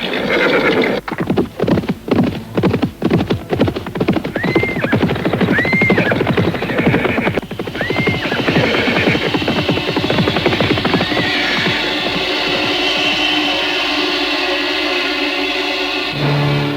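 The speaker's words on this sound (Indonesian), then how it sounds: "Ayo kita susul gerobak kuda itu." Horse-drawn cart sound effect for a radio drama: a rapid run of hoofbeats in the opening seconds, then horses whinnying several times over a steady rumble of wheels and hooves that continues loudly to the end.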